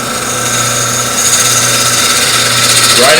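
Wood lathe spinning as a gouge rides the bevel, cutting a wooden vase: a loud, continuous whirring hum with a steady scraping hiss, close and unbroken across the whole stretch.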